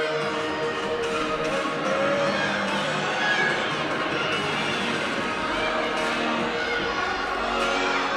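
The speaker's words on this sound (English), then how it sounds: "See her teammates really cheering her on in that corner." Teammates cheer a gymnast through a floor routine at a Towson versus NC State meet, a steady crowd roar with shouts and chatter filling the arena for the whole stretch.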